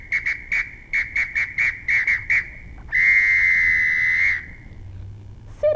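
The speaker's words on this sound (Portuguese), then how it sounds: "Um apito." In a music lesson for young children, a whistle is blown in a quick series of short, shrill toots, then one long, steady blast, loud and close with no talk over it.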